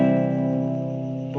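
A single guitar chord played cleanly by a beginner, ringing out full and sustained on its own and fading slowly with no buzz.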